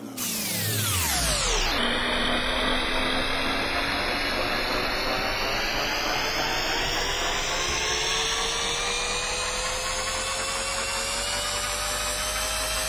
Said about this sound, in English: Attach the sponge to the drill and start polishing in circular motion.